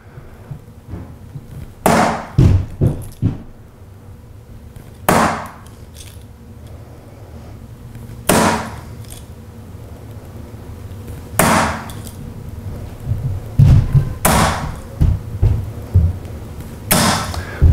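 Steel-tipped darts thud into a dartboard in sharp, isolated impacts, some landing in quick pairs or triplets, with pauses between throws during a practice session on an Ironman board where the darts crowd together.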